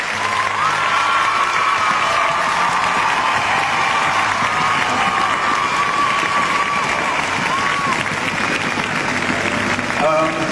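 A large crowd at a Hong Kong award presentation for Anita Mui applauds continuously and loudly, with some cheering and a held voice-like tone riding over the steady clapping for the whole stretch.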